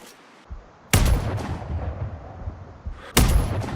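Two loud, sharp sniper rifle shots ring out on a shooting range in Sniper Ghost Warrior Contracts, each a heavy crack followed by a long rolling echo, with a low ambient hum between them.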